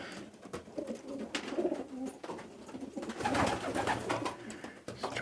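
Several pigeons in a loft coo in soft, repeated throaty phrases that overlap, with flapping and shuffling rustles close by.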